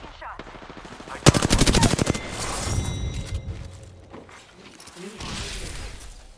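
Rapid automatic gunfire rattles in a loud, dense burst lasting under a second in Apex Legends, followed by scattered shots and game effects as a player talks.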